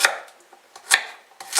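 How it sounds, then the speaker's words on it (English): A kitchen knife roughly chops pumpkin on a cutting board for soup, with a few sharp, uneven chops and quieter taps between them, close and clear. "So I just roughly chop them like that."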